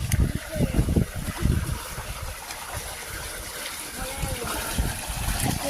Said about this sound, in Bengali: গাইস দেখো এখান থেকে কত সুন্দর জল বেরোচ্ছে।